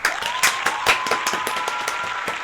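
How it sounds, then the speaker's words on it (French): Hands clap in quick, sharp, distinct strikes during a Pokémon card opening session, a small group applauding close by over a thin steady tone, with no talk. "Attends, j'applaudis."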